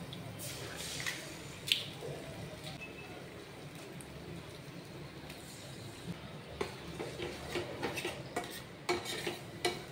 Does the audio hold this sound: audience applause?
no